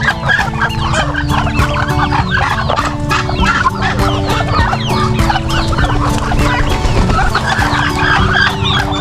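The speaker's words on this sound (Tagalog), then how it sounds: "Pabo, manok, pato." Turkeys, chickens and ducks kept as backyard poultry cluck and chatter continuously at close range, with brief crowing and overlapping calls from several birds filling the whole stretch.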